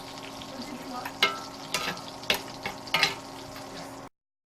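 Bison ribeye sizzles and spatters in a pan of browned butter while being basted, with steady frying hiss and a few louder bursts as butter is spooned over, close and alone.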